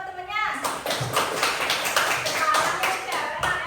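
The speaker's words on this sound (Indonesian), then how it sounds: "Tepuk tangan buat temennya" Primary-school classroom with children clapping together for a classmate, a quick run of claps mixed with kids' voices and an adult speaking, fairly close and lively.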